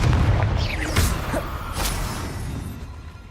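A Confringo spell explosion in the video game Hogwarts Legacy, a deep booming blast up front with crackling debris and whooshes, fading away over a few seconds with no speech.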